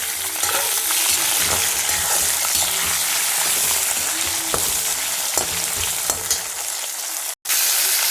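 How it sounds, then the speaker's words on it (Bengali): Hilsa fish heads fry in oil with a loud, close, continuous sizzle, spattering pops and occasional scrapes of stirring; the sound cuts out sharply for a split second near the end before resuming. "এবার দিয়ে দেবো আমি ইলিশ মাছের মাথাগুলো ভেজে নিতে হবে"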